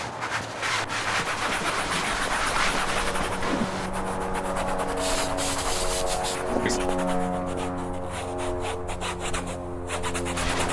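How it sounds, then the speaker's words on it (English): A wet cloth or hand rubs old debris off the headliner of a Mazda RX3 in steady back-and-forth strokes, making a close, continuous scratchy rasp with faint background hum. "I want it to be wet while I'm rubbing and removing any old debris."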